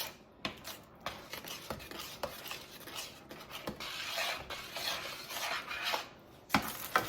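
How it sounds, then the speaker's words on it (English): A spoon scrapes and rasps against a bowl as ground nutmeg is stirred into a pear cobbler mixture, close and steady rubbing strokes broken by a few sharp clinks. "I'm just going to stir that in there until it's all incorporated good."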